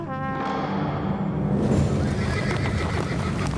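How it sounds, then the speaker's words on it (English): Horses whinny loudly at the start, then hooves pound in a fast, dense rumble of galloping, close and continuous with no voices. "The Britons attacked from chariots, pulled by small, swift horses."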